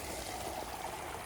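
A creek of snowmelt running across a snowy, slushy hiking trail on the Pacific Crest Trail near Pinchot Pass, a steady, close rushing wash of water with no voices.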